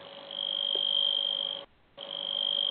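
A continuity tester on an intact wire gives a steady high electronic beep that rings continuously, breaks off briefly for a fraction of a second, then resumes at the same pitch and loudness.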